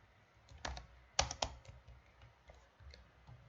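Keys clatter on a computer keyboard while code is typed, a short uneven burst of close, crisp clicks with a few louder strikes and brief pauses between them.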